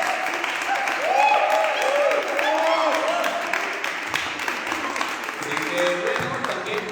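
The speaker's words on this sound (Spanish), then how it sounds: "Un aplauso también para el maestro." Audience applause at a theatre talk about a stage production, a continuous crowd clapping of moderate loudness that runs throughout, with a few voices underneath.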